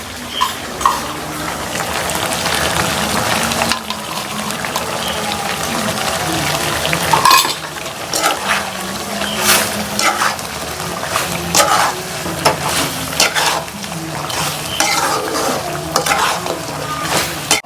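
Chicken legs fry in a pan with a little oil, giving a continuous close sizzle and repeated scraping and stirring strokes, plus occasional clatter, over a long stretch without speech.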